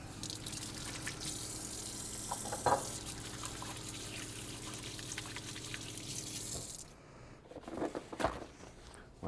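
Running tap water splashes steadily into a sink while hands are washed in a home kitchen, with faint clinks over the flow before the water shuts off and a few quieter handling sounds follow.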